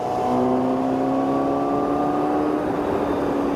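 A steady, loud engine drone with rising harmonic tones, a Honda CBR1000RR-R Fireblade SP pulling hard at high revs on a wide expressway, with wind noise around it.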